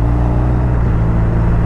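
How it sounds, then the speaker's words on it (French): The engine and exhaust of a 2023 BMW R 1250 RT touring motorcycle in Triple Black give a loud, steady, deep rumble heard close up, without talk. "Et le bruit hein, du moteur, enfin du moins de l'échappement je pense"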